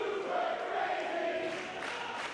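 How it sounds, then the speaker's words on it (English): Sold-out wrestling crowd chanting for Super Crazy, a sustained, somewhat distant wash of voices with a rising and falling chant tone. "Huge Super Crazy chants here"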